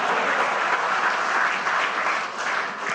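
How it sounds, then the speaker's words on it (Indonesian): Audience applause at a political party national working meeting during a presidential speech, a dense, even wash of clapping from a large crowd that holds steady throughout. "Tepuk tangannya kurang"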